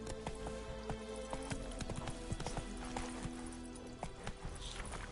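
Roach the horse's hooves in Witcher 3, a rapid clip-clop of galloping hoofbeats, close and steady, with occasional faint extra sounds mixed in.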